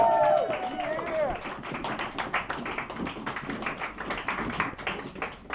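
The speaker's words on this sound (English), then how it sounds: "Please welcome to the stage with the form of clapping and cheering and wooing, Elliot Wengler." An audience at a live comedy night at Party Piece in Euston claps and cheers in a dense, sustained burst of applause that carries on for several seconds, with a few whoops near the start, then slowly thins out.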